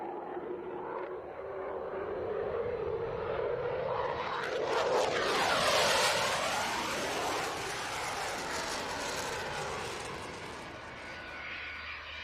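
An F-16 fighter jet roars past during manoeuvres at an airshow, its loud engine building to a peak overhead around the middle with a sweeping Doppler rush, then fading as it pulls away.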